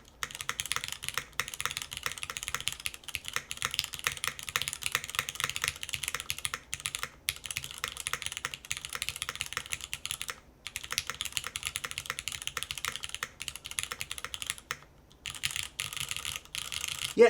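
Continuous typing on a Matrix mechanical keyboard, fast clacky keystrokes in dense bursts with short pauses, close and fairly quiet, with an occasional deeper spacebar hit; no voices.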